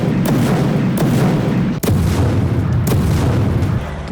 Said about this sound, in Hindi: आईडीएफ ताबड़तोड़ अंदाज में हमले कर रही है। गाजा पर बारूदी प्रहार कर रही है।